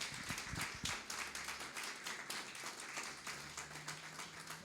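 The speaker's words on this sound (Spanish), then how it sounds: "¿Y por qué no le damos un fuerte aplauso a Dios por ese tiempo?" A church congregation breaks into loud, dense applause during a service, with sustained clapping from many hands filling the room for several seconds before gradually thinning out.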